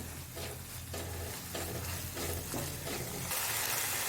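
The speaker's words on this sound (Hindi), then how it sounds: "देखिए मैं सब मसालों को अच्छे से भून के लूँ।" Spices and yogurt stir-frying for mutton brain fry, a dense, continuous crackling sizzle with rhythmic stirring pulses, close and fairly loud throughout.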